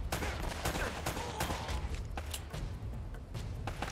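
Sustained gunfire in the video game Uncharted: Drake's Fortune, with dense rapid volleys and sharp cracks filling the whole stretch, loud and continuous.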